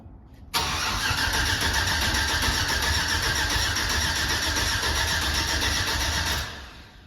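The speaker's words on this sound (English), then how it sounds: "we're about to crank it. The first start with the CHOPACABRA cam from Texas Speed" A Chevy 5.3 V8 in a Silverado with a Texas Speed Chopacabra cam cranks and catches on its first start at about half a second, then runs loud and steady up close for several seconds before winding down.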